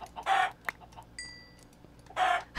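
Minecraft chickens cluck in two loud, close bursts at the start and end, with a short chime-like tone and small clicks in the quieter gap between them.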